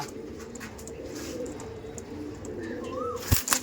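Andhra pigeons being released coo softly amid background rustling, with a few faint calls and a sharp knock or flutter near the end.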